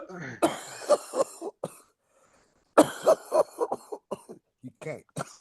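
A person coughs in harsh, repeated bursts, pauses briefly, then breaks into another fit of hacking coughs with throat clearing, close to the listener.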